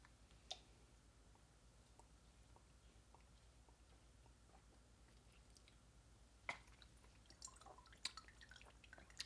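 Water from a survival water filter drips and clicks faintly and sporadically against near-silence, with a few sharper drips and squishy sounds toward the end.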